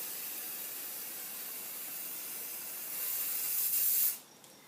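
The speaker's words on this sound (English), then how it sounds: "Can I spray this one? Alright, let's spray that." A can of spray paint hisses steadily onto a fidget spinner held over water for hydro dipping, a close, continuous spray that swells slightly before cutting off abruptly, with no talking.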